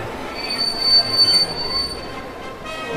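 A passenger train pulls into Hardoi station with its wheels squealing in a steady, piercing, high-pitched screech over a low rumble of rolling carriages. The sound is close and continuous, and no one speaks.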